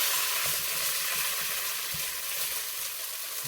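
Coconut milk, about half a can, sizzles as it spreads into hot oil while a coconut curry sauce is made; a steady, even hiss holds throughout with faint stirring scrapes beneath.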